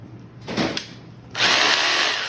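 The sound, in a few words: Bosch hammer drill running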